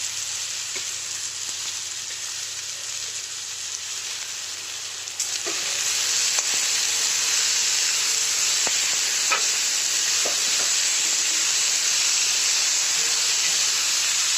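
Onions frying in a pan with a little asafoetida, a steady close sizzling hiss that grows louder partway through, with occasional faint clicks of stirring and no talk.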